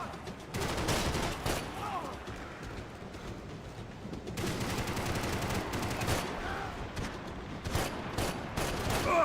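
Rapid bursts of video-game gunfire crackle repeatedly in quick volleys, fairly close, with some talk mixed in during an online battle royale match.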